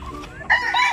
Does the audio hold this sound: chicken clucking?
yes